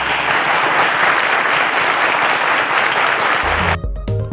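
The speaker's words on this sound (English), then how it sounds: "A round of applause, ladies and gentlemen." Studio audience applause on a televised maths quiz show, a loud, sustained burst of clapping that cuts off abruptly near the end, giving way to a short electronic musical sting.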